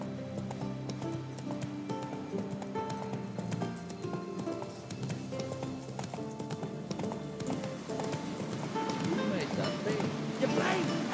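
Roach, a horse in The Witcher 3, gallops with a steady, fast clip-clop of hooves that carries on throughout, layered over game music and ambient sound.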